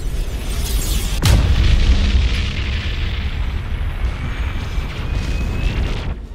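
Heavy weapons fire and explosions from spaceship combat in BFG: Armada, a sharp loud blast near the start followed by a sustained booming, rumbling barrage that carries on steadily to the end.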